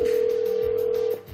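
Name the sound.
telephone ringback tone of a call to a mobile phone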